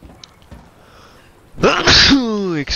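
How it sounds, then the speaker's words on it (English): A single loud human sneeze, a quick sharp intake followed by an explosive burst with a voiced tail, preceded by quiet background. "I had a sneeze."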